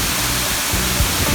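Bridal Veil Falls near Hope, British Columbia, Canada, a roughly 60-metre waterfall heard from close by as a loud, steady broadband roar with no break and no voices.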